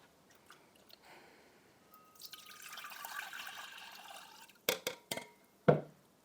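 Water splashes and trickles into kitchen containers to rinse out harvested ginger, a soft running pour building over a few seconds, followed by several sharp close clinks and taps of the containers.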